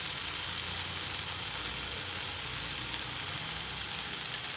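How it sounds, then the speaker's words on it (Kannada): Chicken frying in a hot pan with spicy homemade upsaaru masala, a loud, steady, unbroken sizzle and hiss that fills the whole stretch with no talk. "ಎಲ್ಲ ಚೆನ್ನಾಗಿ ಫ್ರೈ ಮಾಡೋಣ."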